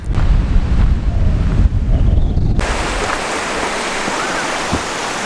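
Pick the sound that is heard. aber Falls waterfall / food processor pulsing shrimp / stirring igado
aber Falls waterfall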